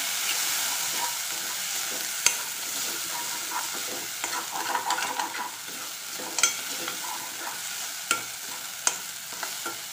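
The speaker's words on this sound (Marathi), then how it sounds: "वाटण फ्राय झालं आहे." Ground spice paste frying with a steady sizzle, stirred with occasional sharp scrapes and taps of the spoon against the pan, close and continuous, for village-style shengule.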